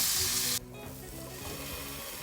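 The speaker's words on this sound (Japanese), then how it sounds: "フライパンにバターを敷いて焼いていきます" Food coated in mayonnaise and curry powder fries in butter in a frying pan with a close, steady sizzle. A brighter burst of hiss fades after the first half-second, and the crackling frying continues.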